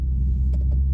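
An Infiniti Q50's engine gives a deep, steady rumble from inside the car, in second gear during spirited driving on twisty roads, with a brief pair of faint higher noises over the low drone.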